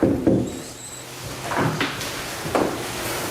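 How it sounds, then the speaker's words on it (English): A few soft knocks and scraping thuds as a doorstop is put in a door in a public library, spaced irregularly, with faint room noise between them. "She was putting the doorstop in."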